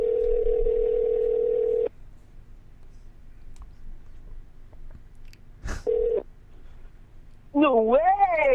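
A phone call ringing out unanswered, with a steady ringback tone that sounds, stops, and briefly returns, broken by a short click and faint background noise, then a burst of excited voices at the end.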